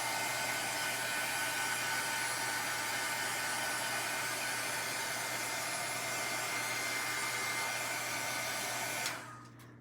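Heat tool blowing hot air to melt embossing powder on an aluminum foil card: a steady, close whooshing roar with no breaks, cut off abruptly just before the end.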